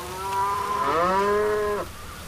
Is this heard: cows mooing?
yes